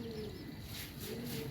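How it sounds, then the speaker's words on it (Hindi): A pigeon sits among a flock of racing pigeons kept for a morning flying contest and gives a soft, brief coo. It is faint and distant under steady background hiss. "एक ये बैठा कबूतर"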